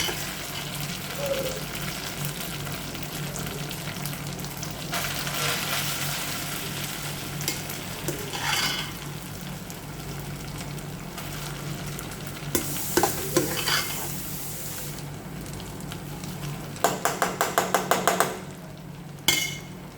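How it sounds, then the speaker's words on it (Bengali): Boiled Gobindobhog rice stirred and fried in a kadai: a continuous soft sizzle with scraping spatula strokes, and a quick run of sharp metallic taps near the end. "গোবিন্দভোগ চাল যেটা ফুটিয়ে রেখেছি আস্তে আস্তে কড়াইয়ের মধ্যে দিয়ে দিই"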